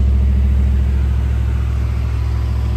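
A 1987 Chevrolet Camaro IROC-Z28 engine runs steadily at idle, a deep, even rumble with a loud, close low-end throb and no talk over it.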